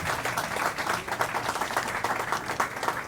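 Audience applause at the Venezuelan bishops' conference plenary assembly welcoming an archbishop, dense, lively clapping from a large crowd that holds steady throughout.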